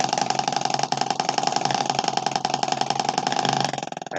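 A small motor on a kids' art bot robot kit runs steadily with a buzzing, rattling drone that holds constant for several seconds, then drops slightly near the end. Loud and close, with no talking.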